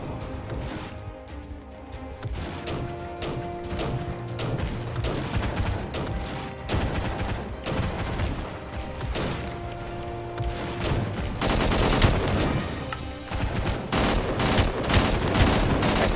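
Sustained automatic gunfire in the game Angels Fall First, a dense barrage of rapid overlapping shots and bursts with clanks and crashes, loud and continuous throughout with no talk.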